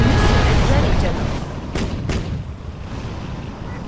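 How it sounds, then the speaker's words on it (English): A nuclear missile launch in the Generals Shockwave mod roars out as a loud low rumbling blast that slowly fades, with a couple of sharp cracks partway through and a voice speaking near the start. "We have launched our nuclear missile."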